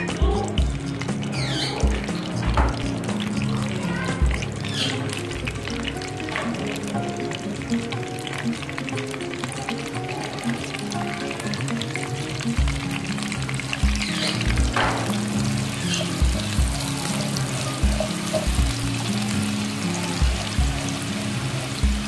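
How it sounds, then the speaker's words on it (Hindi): Onion, garlic and ginger fry in a cup of hot oil in a home kitchen pan, a continuous close sizzle with occasional stirring clinks and spatters, no voices. "1 कप हमने ऑयल लिया है और ये प्याज पहले फ्राई करेंगे।"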